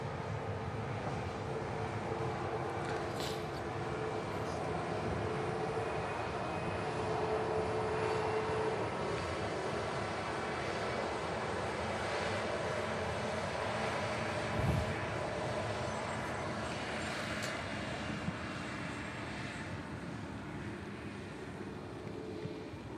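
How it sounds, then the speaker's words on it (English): An Aer Lingus Airbus A330 at Manchester Airport passes with a long, moderately loud jet roar and rumble that swells and eases gently across the stretch, with faint tonal whine and no voices. "There goes the Aer Lingus A330."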